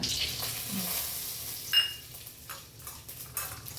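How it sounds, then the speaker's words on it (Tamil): Mustard and cumin seeds fry in hot oil in a home kitchen, giving a steady close sizzle with a few sharp pops and clicks and no voices. "கடுகும் சீரகம் போட்டு எண்ணெயில அப்படியே ரோஸ்ட் பண்றாங்க"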